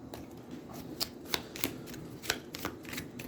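A deck of game cards being shuffled by hand during a tabletop card game, a quiet run of soft riffling flutters and sharp card snaps, close and alone.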